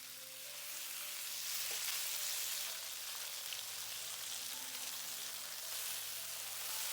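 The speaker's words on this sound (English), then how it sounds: "Then turn the meat and let the other sides char slightly as well." Beef sizzling and charring in a hot wok, a steady, close frying hiss with occasional light stirring scrapes, no talking.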